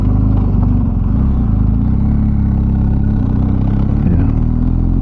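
A BMW R1250GS motorcycle engine pulling in third gear at about 25 mph, a loud steady low droning hum with slight pitch wavering as the ride continues.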